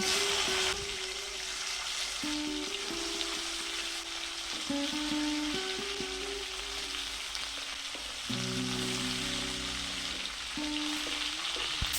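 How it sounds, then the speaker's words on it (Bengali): Chopped mixed vegetables hit hot oil tempered with panch phoron for a chorchori, producing a loud, continuous close sizzle with stirring, over a steady tonal hum in the background. "এখন কেটে রাখা সবজিগুলো এক এক করে দিয়ে দেবো"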